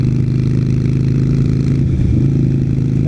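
Motorcycle engine droning loud and steady as heard from a rider in a helmet, with a brief change in pitch midway during an attempted gear shift, wind and engine noise filling the whole stretch.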